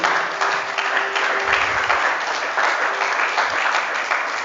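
A church congregation claps and cheers in sustained, dense applause that fills the room at steady loudness, with a few voices mixed into the ovation.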